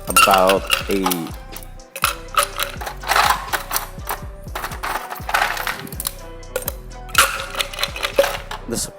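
Frosty ice being scooped for a naseberry mojito, with crisp clattering rattles and clinks of cubes against a scoop and glass in quick loud bursts close by, and a voice speaking in between.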